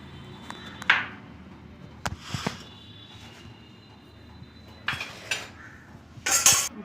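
Spices mixed for masala peanuts in a bowl, scattered metal spoon clinks and scraping taps against the dish, a few sharp strikes with quiet gaps between, close and alone without talk.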